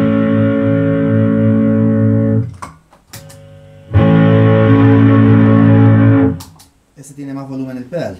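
Loud, close electric guitar played through a distortion pedal: two long saturated chords ring and decay, separated by brief picked notes, followed by a quieter tail.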